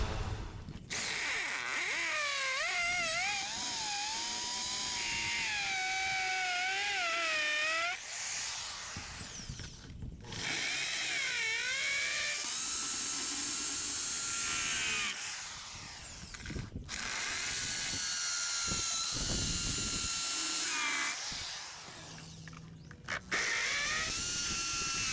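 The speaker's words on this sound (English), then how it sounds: "So I actually have a hammer drill that I'm going to use for that, so a little more strength to it, but also has that concrete bit on it." A hammer drill fitted with a concrete bit bores anchor holes for a new garage door sill, loud whining bursts of drilling separated by brief pauses, close up with no talking.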